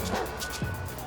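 A dog in Grand Theft Auto V gives a couple of quick, fairly faint barks during a mission, with faint game sound behind them.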